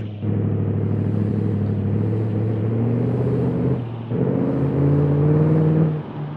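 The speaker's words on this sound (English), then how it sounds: "Let's try to restart the engine." A drag truck engine in the BeamNG driving game idles and rumbles steadily with layered harmonic drone, briefly dipping near the four-second mark as if cut and restarted, then resuming loud and alone before fading out.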